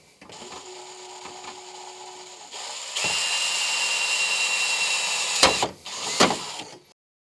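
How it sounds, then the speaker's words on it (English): An electric drill with a 1/8 inch bit whirs steadily through several short bursts, boring pilot holes, its motor pitch rising and falling, with brief pauses between runs. "First I'm using a 1/8 inch drill just to pilot these holes."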